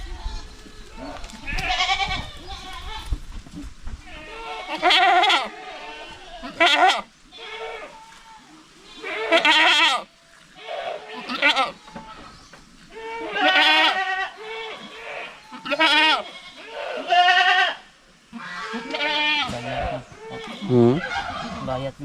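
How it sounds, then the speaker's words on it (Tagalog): Goats on a Filipino farm bleating repeatedly, loud and close, in a series of wavering calls separated by short pauses. "may kambing na dumidi"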